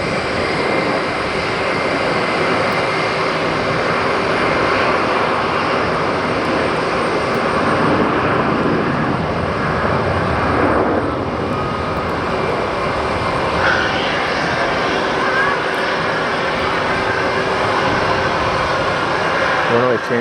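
A jet airliner roars steadily overhead at JFK airport, a broad, continuous engine rumble and hiss that fills the whole stretch with a slight swell midway, with someone talking over it.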